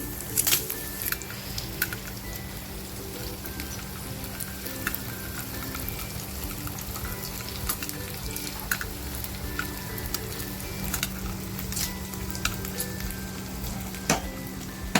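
Paneer cubes frying in a pan of hot oil, a steady close sizzle with scattered crackles and pops over a low continuous hum.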